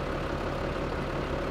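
A tractor engine idles in the farming video game Farming Simulator 17, giving a quiet, steady low drone that runs unbroken with no voices.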